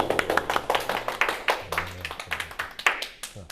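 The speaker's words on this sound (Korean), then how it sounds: "박수!" Students in a chemistry class clap in a quick, uneven burst of individual hand claps, close and crisp, with voices talking and cheering over them.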